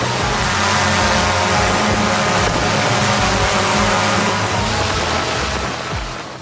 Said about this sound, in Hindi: इस ड्रोन की 20 लीटर की कैपेसिटी होती है, जिसमें कि कीटनाशक भरने के बाद यह खेतों में छिड़काव करना शुरू कर देती है।